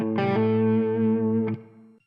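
Electric guitar played through a Tonex One pedal with a Tube Screamer-boosted overdrive tone, a couple of distorted strummed chords ringing out thick and sustained before fading over about two seconds.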